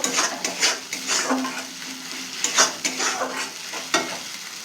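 Peanut paste cooked down with spices in a pan for a village-style potoler dolma, a utensil scraping and stirring in irregular strokes over a soft, steady sizzle, close and fairly loud.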